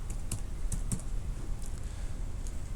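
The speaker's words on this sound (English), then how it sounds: "I will type my name" Quiet keystrokes on a computer keyboard, a handful of light irregular clicks spread over a few seconds against a soft background hiss, with no talking.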